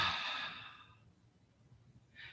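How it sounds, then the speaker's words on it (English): A person exhales in a deep, breathy sigh during a gentle neck and shoulder exercise, loud at first and fading over about a second, followed by a short, soft breath near the end. "Take a deep breath in and go."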